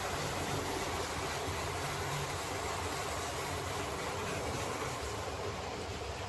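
An N2 model railway locomotive runs steadily with a continuous, fairly loud mechanical rumble and whir, a slightly noisy little loco on a layout, with no talking.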